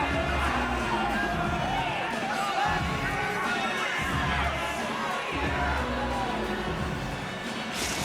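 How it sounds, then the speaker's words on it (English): A crowd roars and cheers steadily throughout in an EA Sports hockey video game during a Penguins shootout in Denver, a dense, constant swell of arena noise with a hint of voices in the mix. "The crowd is roaring."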